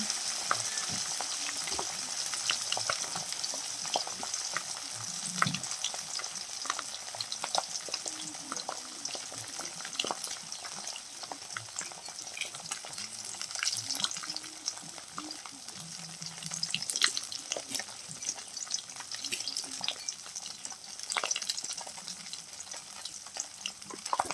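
Hilsa fish frying in a pan with a steady crackling sizzle and scattered pops, close and moderately quiet, continuing with no talk.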